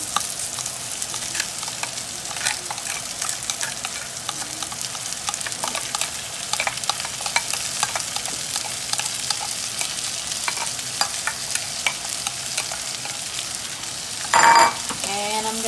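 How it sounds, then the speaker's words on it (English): Rice and black-eyed peas frying in a pot for a Guyanese vegetable cook-up rice, a loud close sizzle broken by repeated scraping and clinking strokes of a spoon, with a sharper clatter near the end. "And I'm gonna mix this in,"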